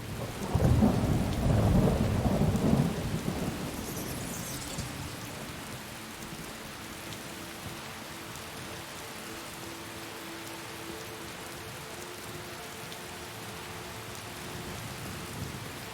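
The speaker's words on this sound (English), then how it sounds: "Journey through the evening rain." Rain and a rolling thunderclap in the video game Skyrim: a loud rumble in the opening seconds fades out, leaving steady rainfall hissing evenly for the rest, with no talk.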